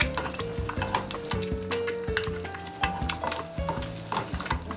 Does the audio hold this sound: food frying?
yes